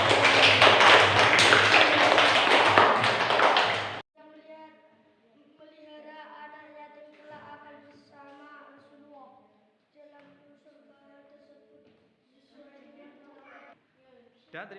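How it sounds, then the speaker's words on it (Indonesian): A classroom group claps together in a dense burst of applause lasting about four seconds, then stops abruptly, leaving a teacher speaking alone afterward. "berikan tepuk tangan"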